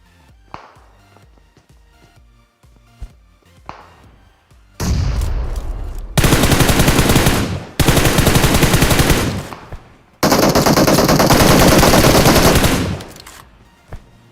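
A SCAR rifle sprays gunfire in PUBG Mobile. Faint scattered taps and distant shots come first, then long, loud, dense automatic bursts, broken by short pauses.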